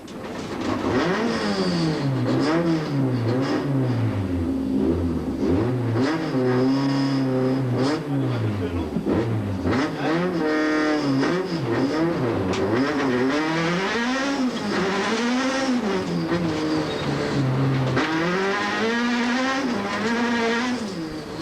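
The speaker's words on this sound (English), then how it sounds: "Let's watch from the in-car camera just how hard he had to work behind the wheel and look out for the overshoot." Castrol Toyota Run-X rally car at full attack on a stage of the 2003 Tour Natal, heard from inside the cockpit: a loud, continuous engine note rising and falling through gear changes, with repeated revving sweeps and no break for the whole run.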